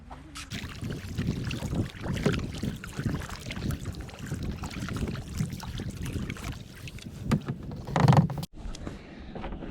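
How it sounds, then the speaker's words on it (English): Kayak paddling on Lake Wanaka: close, irregular splashes and drips of paddle strokes with light knocks against the hull and some wind buffeting, ending in a louder splash. "We are kayaking on Lake Wanaka today."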